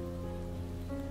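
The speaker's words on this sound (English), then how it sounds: "Schedule disrupted by the sudden rain, he begins to look for a place to take cover from the rain." Sudden rain falls in the Behind the Frame game, a steady, dense patter over a low tonal hum, continuous and even for about a second.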